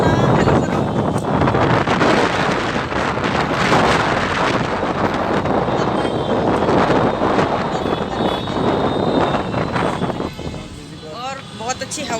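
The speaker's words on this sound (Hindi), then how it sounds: "बहुत अच्छी हवा चल रही है बाहर" Strong outdoor wind buffets the microphone in a loud, continuous, gusting roar, with voices faintly present beneath it.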